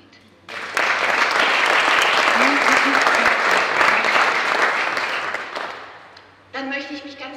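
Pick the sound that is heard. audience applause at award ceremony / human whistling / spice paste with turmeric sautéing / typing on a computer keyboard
audience applause at award ceremony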